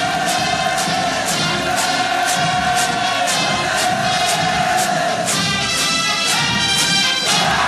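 Rows of North Korean army troops march in the 2017 military parade, a loud crowd-like wash with regular rhythmic stamping pulses that shift partway through.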